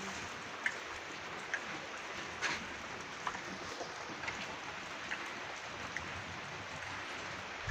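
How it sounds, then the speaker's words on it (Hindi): Rain falls over a village under cloudy skies, a faint, steady patter with occasional sharper drips standing out at irregular intervals. "बारिश देख सकते हो बादल के साथ।"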